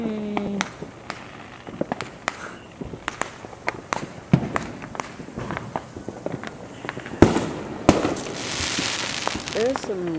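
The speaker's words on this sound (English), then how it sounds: "More fireworks." Independence Day fireworks burst above trees in a string of sharp cracks and pops, some near and loud and others fainter, with crackling between and people's voices in the background.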